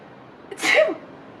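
A child gives one short, sharp sneeze close by, a quick breathy burst after a brief inhale, set against a faint background hiss.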